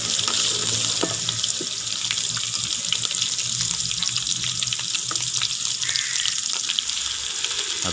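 Ginger paste and green chili fry in hot ghee for spicy turnip bharta, a steady close sizzle with a broad hiss and small crackling pops throughout, no talking.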